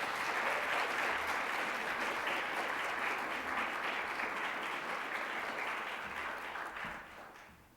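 An audience applauds to welcome speaker Joan Williams at a University of Richmond evening event, a steady wash of clapping from a sizable crowd that fades toward the end.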